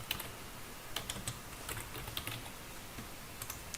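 Computer keyboard typing, a quick scatter of soft close key clicks at an uneven pace over low room hum.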